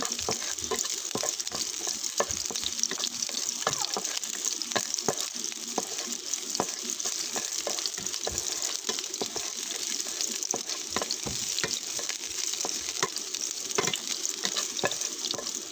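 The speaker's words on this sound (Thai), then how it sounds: "ผัดให้กระเทียมมีกลิ่นหอม" Garlic stir-fried in oil in a pan before sunflower sprouts go in, a steady crackling sizzle with frequent spatula scrapes and taps throughout, close and fairly quiet.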